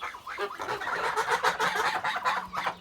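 Several Kholmogory geese honk and chatter together in a busy, continuous flock of calls, close by with no talking.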